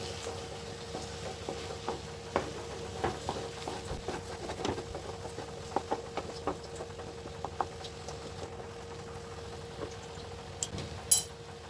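Dried Bombay duck fish curry stirred in a pan, with light, irregular scraping taps and clicks of the utensil through the dry mixture, fairly quiet and close, with no talking.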